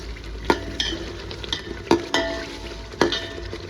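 Spices for a chole tempering sizzle and crackle in hot oil while a utensil scrapes and stirs the pan, with several sharp clinks and a steady frying hiss.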